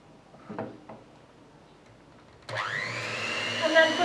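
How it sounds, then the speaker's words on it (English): An electric mixer beats pancake batter, starting abruptly partway through with a steady, whirring motor whine that holds to the end, after a few soft knocks against a quiet room. "you can actually hear a change in the sound of the mixer"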